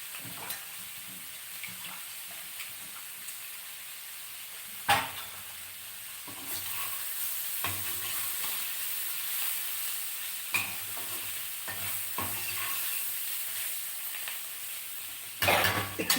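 Peanuts sizzling and frying in a pan for a capsicum potato curry, a steady soft hiss with occasional stirring scrapes, fairly faint and without talk.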